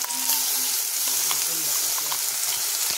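Onions frying in a pan for boal fish kalia, a steady close hiss of sizzling oil running through the whole stretch with faint scattered clicks of stirring and a low murmur of voice underneath.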